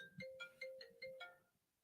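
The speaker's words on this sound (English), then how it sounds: "Sorry about that's my phone." A mobile phone ringtone plays: a quick repeating electronic melody of bright, evenly spaced beeping notes, close and moderately loud, that stops after under two seconds.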